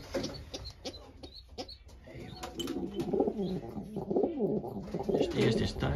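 Several racing pigeons coo in low, rolling bursts at the loft, close and overlapping, with wing flutters and someone talking quietly among them.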